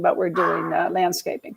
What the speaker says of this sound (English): sorry about my puppies barking